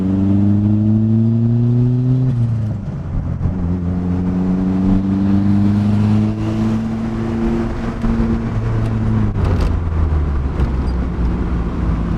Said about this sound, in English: The sound of this is probably the best right now of any Miata